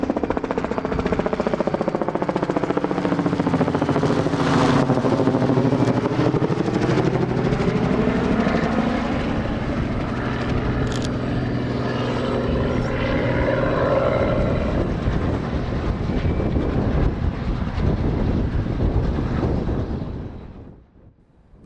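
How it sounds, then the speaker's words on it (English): Helicopter flying overhead at a railway trackside, a loud continuous rotor drone with the pitch sweeping as it passes, filling the whole stretch before fading out abruptly at the end. "not without the sound of a helicopter above drowning out all of our sound"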